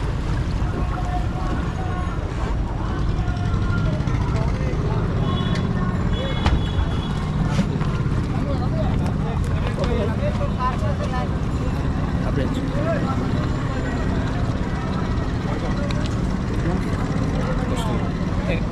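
An engine-powered ferry boat crosses the river at Nawab Bari ferry ghat in Old Dhaka, its steady motor drone continuous and close, with water noise and faint background voices throughout.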